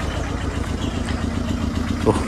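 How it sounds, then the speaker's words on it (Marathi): A motorcycle engine arrives at a village house in Konkan, heard as a steady, close, low rumble throughout. "एक बाईक आली आहे"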